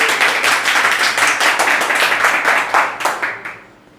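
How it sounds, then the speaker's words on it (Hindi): Clapping from an audience at an opening-ceremony celebration: loud, fairly rhythmic hand claps in a sustained burst that thins out and fades over the last second. "तालियां बजाते रहिए।"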